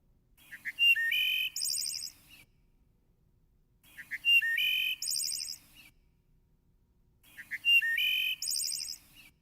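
Wood thrush song recorded three times, each a clear fluting phrase of rising notes ending in a bright trill, separated by short silences, close and distinct.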